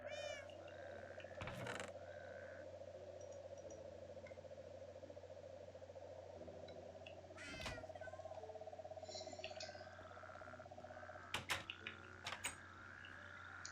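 Cats in a modded Minecraft 1.7.10 world give a few short meows amid steady game ambience and machinery hum, followed near the end by a quick cluster of sharp clicks.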